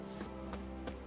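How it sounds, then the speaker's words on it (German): Horse hoofbeats from the video game The Witcher 3, quiet, evenly spaced clip-clop strikes over a steady low background hum. "Auch Pferde sterben, wenn sie immer galoppieren müssen."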